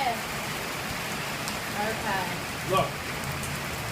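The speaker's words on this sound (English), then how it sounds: "It's pouring here." Heavy rain pours steadily during a big storm as a broadband hiss throughout, with people talking briefly over it.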